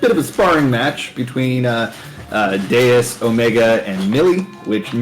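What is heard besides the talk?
None of the usual background noises is heard.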